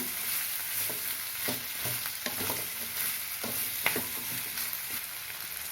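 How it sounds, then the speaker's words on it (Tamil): Two potatoes sautéing in a pan for sambar rice, a steady close sizzle broken by repeated scraping stirs of a spoon, with no talk. "ரெண்டு உருளைக்கிழங்கு சேர்த்துக்கிறேன் அதுவும் ஒரு நிமிஷம் வதங்கட்டும்"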